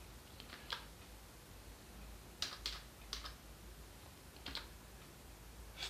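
Computer keyboard keys typed in a few quick bursts of clicks, entering an IP address on a PC while setting up a Samsung Smart TV K-series running Tizen; crisp, close and fairly faint in a quiet room.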